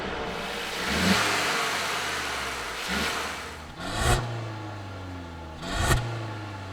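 Mercedes GLC with a 2-liter turbocharged four-cylinder revving in three strong bursts over a steady idle, each rise sharp and then falling back, heard close and alone.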